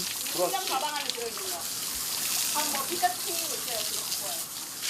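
Water sprays on Asian elephants at a zoo shower area in a continuous rushing hiss while a voice talks over it, the spray steady and fairly close.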